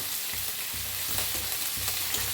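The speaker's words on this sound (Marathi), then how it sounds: "लसूण हिरव्या मिरच्या असं मोडून घेतल्या त्या सगळ्यांना असं छान असं भाजून घेऊया" Garlic and green chillies fry with onion, tomato, cashews and ginger for paneer curry, giving a steady close sizzle with faint stirring scrapes throughout, no voices.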